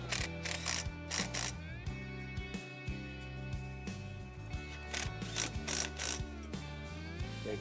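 A ratchet wrench with a 1/2 inch socket tightens bolts while installing an Oscar 330 power lift kit, giving repeated close bursts of rapid clicking over a steady tonal background.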